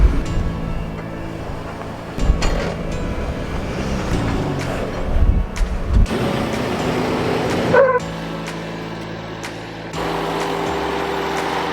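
A Jeep crawls an off-road trail near Moab, Utah, in two-wheel drive with the sway bar disconnected. A close, loud rumble surges and drops in bursts, broken by sharp yipping sounds.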